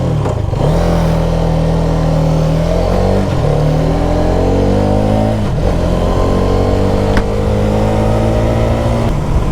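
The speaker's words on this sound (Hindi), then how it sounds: "अब बाइक को स्टार्ट करते हैं और थोड़ा आगे चलते हैं।" A Hero Karizma XMR 210cc motorcycle starts and pulls away, the engine note climbing through revs in steady loud rising tones, then easing and rising again as it rides off.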